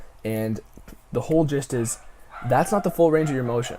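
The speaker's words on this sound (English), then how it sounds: "Excuse my dog." A pet dog gives short yips and whimpering barks close by, its brief bursts mixed in with someone talking steadily over it.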